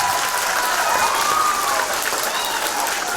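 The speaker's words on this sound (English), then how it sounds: "Let's give her a round of applause." Schoolchildren at an elementary school applaud a classmate who just sang the national anthem, a dense, sustained wash of clapping from a large group heard from within the room, with faint whistles.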